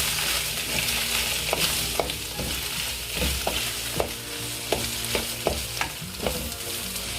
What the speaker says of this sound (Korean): 참기름 한 큰술 섞어서 볶겠습니다